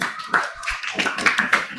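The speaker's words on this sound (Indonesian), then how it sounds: "Oke, kelompok 3, kasih tepuk tangan." Classroom group being clapped for, a sparse, uneven patter of individual hand claps with a few sharper close claps, faint background voices murmuring underneath.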